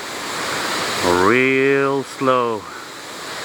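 Rushing water from a waterfall in Skútudalur forms a steady, loud wash of noise throughout, with someone speaking briefly over it.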